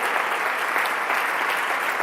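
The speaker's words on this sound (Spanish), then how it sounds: "Dale un fuerte aplauso a aquel que es digno." A church congregation gives sustained, dense applause, an even wash of many hands clapping at steady loudness with no speech over it.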